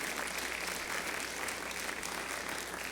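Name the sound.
congregation applause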